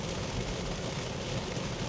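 Rain beats on a car as it drives along, a steady, close, full hiss of drops with a low road rumble beneath, no voices.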